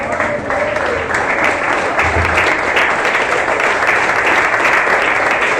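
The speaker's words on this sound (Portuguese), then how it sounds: "Aplaude mais forte ao Senhor Jesus Cristo" Church congregation clapping loudly and steadily for the Lord during a Sunday family worship service, a dense, continuous roar of hands filling the room.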